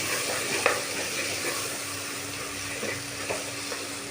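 Mint and a handful of coriander leaves are stirred into chicken dum biryani in a pot, giving a soft continuous sizzle with a few light spoon knocks, fairly quiet and with no talking.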